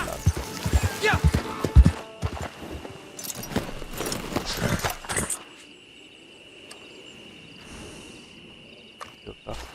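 Horse hooves clip-clop in the Red Dead Online video game, a busy run of thuds mixed with game voices and sounds for about five seconds, then a quieter ambient stretch of insects and faint noises.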